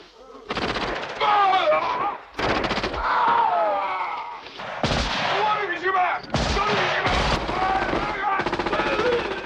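Rapid bursts of automatic gunfire, loud and close, repeat in several long volleys separated by brief pauses.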